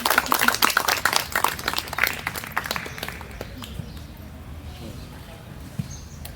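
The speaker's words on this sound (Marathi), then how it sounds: "टाळ्या बरं झाल्या पाहिजे मुलींकडनं टाळ्या" A group of girls claps hands, a quick run of sharp claps that is loud at first and then fades into quieter room noise, with faint voices in the background.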